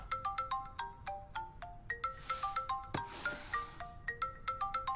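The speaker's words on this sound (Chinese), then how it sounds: "讨厌的电话。" A mobile phone ringtone plays a bright, repeating melodic chime pattern close by, looping steadily for about five seconds with a soft rustle midway.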